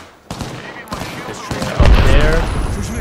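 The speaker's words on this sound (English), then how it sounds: "What the heck is they shooting at each other?" Rapid gunfire crackles in a video game shootout, growing denser and louder with sharp bursts and a heavier thump near the middle, while a voice talks over it.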